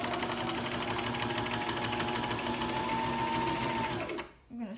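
A sewing machine runs steadily and loudly, stitching a fabric face mask, its rapid even whir continuing for about four seconds before stopping abruptly, followed by a brief voice.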